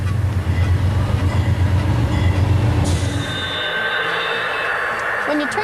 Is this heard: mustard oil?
no